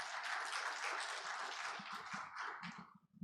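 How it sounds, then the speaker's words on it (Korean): Audience applause at a Korean academic presentation on fair trade and sustainability regulation, a steady wash of many hands clapping that fades out toward the end, with no talk over it. "저희가 네 분께 큰 박수 부탁드리겠습니다."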